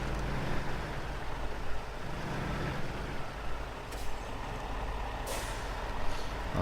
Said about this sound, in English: We're flooring it, giving it all she's got.